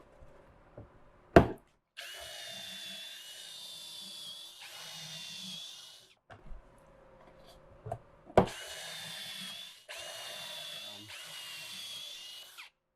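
A power drill bores pocket holes into a wooden shelf, whirring loudly in two long bursts, each split into two pushes, separated by quieter pauses with sharp clacks as the drill and jig are handled.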